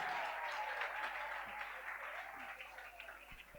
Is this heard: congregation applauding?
yes